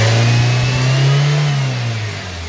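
A small-body Toyota Corolla engine revs up close, a loud steady rise in pitch that holds briefly and then falls back, with no talking.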